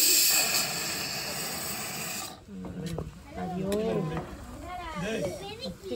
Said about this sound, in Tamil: பக்கத்துல குக்கர் விசில் விடுதுன்னு பாப்பீங்க